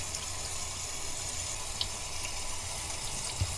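Tap water running steadily into a sink while soap is rinsed out of a KN95 mask, a continuous close hiss of flowing water with a couple of faint clicks.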